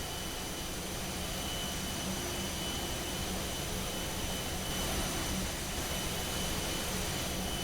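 A CFM LEAP-1A jet engine on an Airbus A320-family airliner in a flight simulator runs as a steady, broad roar with a constant whine, no voices over it.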